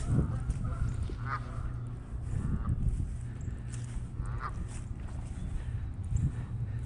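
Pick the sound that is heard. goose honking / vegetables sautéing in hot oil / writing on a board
goose honking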